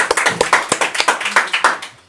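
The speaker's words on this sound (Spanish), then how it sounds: "Ah, listo, un aplauso." A short burst of rhythmic hand clapping, a dozen or so sharp claps in steady succession, close and fairly loud with no voices.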